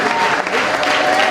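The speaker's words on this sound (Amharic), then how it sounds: "አክብሩ ጌታ ከፍ ባለ ጭብጨባ" A church congregation claps together in loud, dense, sustained applause filling the room.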